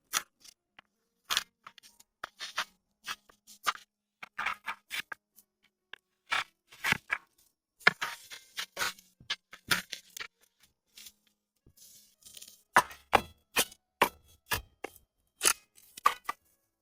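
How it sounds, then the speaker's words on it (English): Split wooden shingles being trimmed for a cordwood cabin roof, sharp irregular cutting and chopping strikes in quick bursts with short pauses, close and crisp against quiet surroundings, no speech. "The split shingles are carefully trimmed again."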